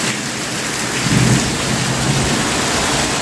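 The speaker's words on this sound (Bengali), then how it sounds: "হঠাৎ করে বন্ধুরা প্রচণ্ড জোরে বৃষ্টি শুরু হয়ে গেছে দেখো" Heavy rain pours down in a thunderstorm, a dense steady roar with a deep thunder rumble swelling briefly near the middle, loud and close, with no voices.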